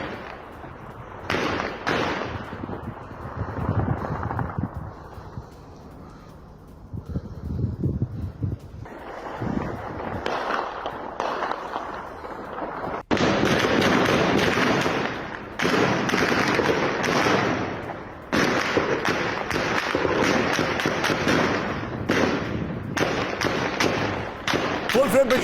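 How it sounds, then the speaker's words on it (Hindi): Heavy gunfire rattles through a residential area of Damascus, Syria, in dense, sustained bursts of cracking shots, rough with wind buffeting the microphone and possible voices underneath. "रिहायशी इलाके के बीच फायरिंग से दहशत, ये देखिए जरा"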